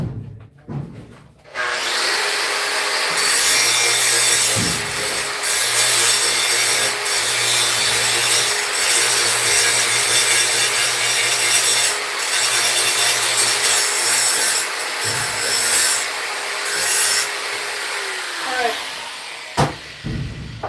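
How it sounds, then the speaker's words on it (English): Grinder working a knife blade in a knife-making shop, a loud continuous abrasive rush over a steady motor hum, sustained for nearly twenty seconds with small shifts in pressure. "I'm just going to quickly grind this again."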